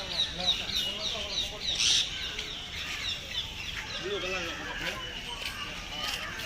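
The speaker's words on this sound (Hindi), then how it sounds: "भाई ये पूरे डोम ना पक्षियों के यानी तोते के हैं, तोता मैना सब अंदर है।" A busy chorus of squawking, chirping birds like parrots and mynas, many calling at once, with faint human murmuring in the background.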